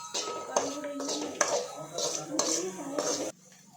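Dried fish powder stirred in a pan for karuvadu podi, a spoon scraping and clinking against the metal in a steady rhythm of close, repeated strokes that stops abruptly near the end.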